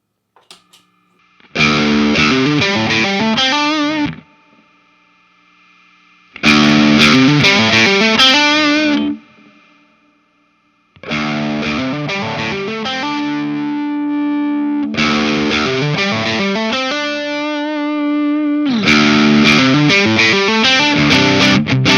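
Heavily overdriven electric guitar through a Way Huge overdrive pedal playing loud, sustained chords and riffs in several bursts separated by short silences, thick and saturated with no talking.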